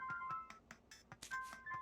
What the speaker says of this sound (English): This new Brain Creek ringtone is hot.